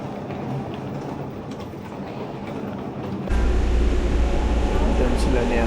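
A train pulls into a station in Taipei, Taiwan: a low mechanical hum jumps to a loud, heavy rumble partway through as it arrives, with people talking nearby.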